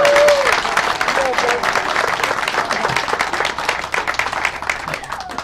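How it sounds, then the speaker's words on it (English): Audience applause at an outdoor disc golf course dedication, a dense, steady burst of clapping from a crowd that holds strong through the clip, with faint voices mixed in. "So let's give him a big round of applause."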